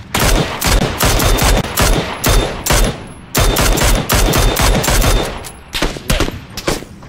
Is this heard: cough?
no